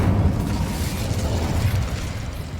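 Incendio fire spell cast in Hogwarts Legacy, a sustained whooshing, roaring burst of flame that stays loud and dense throughout with a low rumbling body and no voices.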